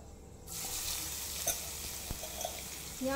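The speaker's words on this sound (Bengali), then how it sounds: "পেঁয়াজটা আমি এখানে হালকা করে ভেজে নেব" Chopped onions sizzle steadily in hot oil as frying starts abruptly, with occasional stirring clinks and scrapes close by.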